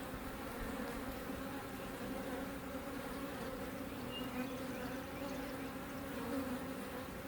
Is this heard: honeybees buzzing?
yes